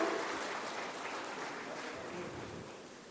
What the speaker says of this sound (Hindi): तालियों से स्वागत करें श्रीमती कौसर जहां जी का।